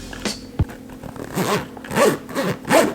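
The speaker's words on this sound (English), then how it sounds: "Listen to the zipper." A camera bag zipper is pulled in several quick, scratchy runs close up, each stroke rising and falling, after a few small clicks and handling noises.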